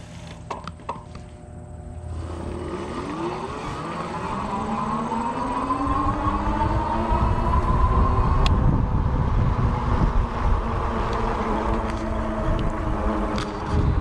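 Go Power Go Express electric bike pulling away on full throttle at the highest assist level, a steady motor whine rising in pitch over several seconds under heavy rolling and wind rumble that grows louder, no talk.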